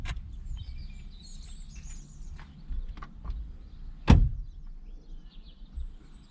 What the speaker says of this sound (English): now close the door.